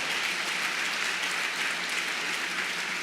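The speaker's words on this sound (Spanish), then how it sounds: "Dale un aplauso al Señor." Steady applause from a large church congregation, dense and continuous for a few seconds with no voices over it.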